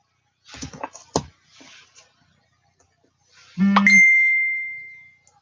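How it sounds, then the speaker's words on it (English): A phone notification chime rings out as a single bright ding that rings on and fades slowly, preceded by a few soft clicks and taps in a quiet room. "My phone went off and my wrist buzzed."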